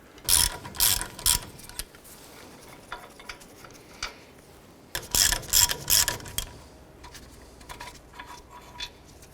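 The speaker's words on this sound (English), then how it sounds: "Using a 21mm socket, remove this bolt and this bolt here." A hand ratchet with a 21mm socket loosens brake caliper bracket bolts on a 2004-2009 Dodge Durango, two bursts of rapid close clicking separated by a pause, with faint metallic handling sounds between.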